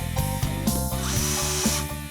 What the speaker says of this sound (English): I'm drilling it in, and then I take it halfway out and drilling it back in so I can don't have to put pilot holes in.